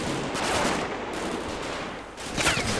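A machine gun rattles in sustained, dense bursts in a Normandy battle from the game Combat Mission: Battle for Normandy, steady and loud throughout with only slight swells and dips.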